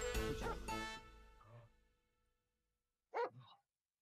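A dog in a roleplay video game barks a few times, a dense cluster of yips early on, then a short pair of barks after a pause, moderately close.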